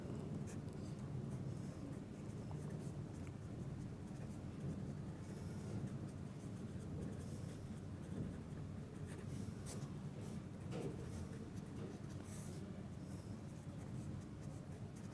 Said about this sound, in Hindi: तो ये यहाँ पर हम लिख देते हैं